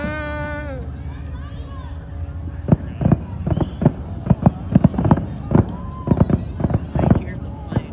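Fireworks at the Traverse City Cherry Festival, a series of sharp booms and cracks in irregular bursts at a middle distance, mixed with crowd chatter and a voice speaking at the start.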